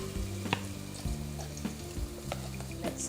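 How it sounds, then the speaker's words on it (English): Masala frying in oil in a clay pot, a steady close sizzle with several sharper crackling pops and low rumbling hum underneath, no talking. "Let's cook the masala until the raw smell disappears."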